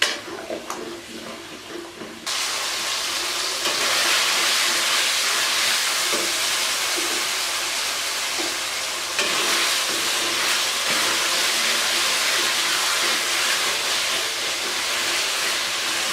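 Potatoes and peas fry and sizzle with spices in a pan, a loud, steady, close hiss that jumps up after a couple of seconds and keeps going with slight stirring shifts.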